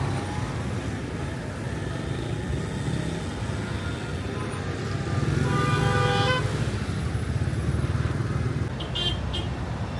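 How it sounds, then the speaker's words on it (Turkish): Busy street traffic in Casablanca, Morocco: a constant rumble of cars and motorcycles, with several car horns tooting in short bursts, one longer honk near the middle and a few quick toots near the end. "Arkamdaki trafiği görebiliyorsunuz değil mi? Gerçekten çok karışık."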